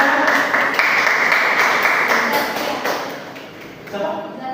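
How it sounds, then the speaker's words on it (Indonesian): A classroom audience gives applause for a student during an Indonesian school lesson, a dense, steady wash of many hands clapping that fades slightly toward the end. "Oke, kita berikan aplaus dulu."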